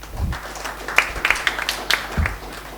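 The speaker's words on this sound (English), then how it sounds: "please give a big round of applause to him." Audience applause at a spine and movement health workshop, fairly faint and sparse, a scattering of claps over a few seconds in a hall setting.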